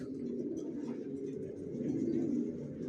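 Young racing pigeons coo continuously in a loft, a low, steady, overlapping murmur at moderate distance.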